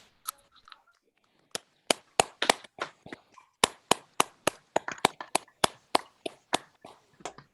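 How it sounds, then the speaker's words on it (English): Scattered, uneven claps from a handful of participants unmuted on an online poetry open mic video call, sparse sharp individual hand claps that gradually thicken into a loose patter, with no talking. "give everyone a round of applause"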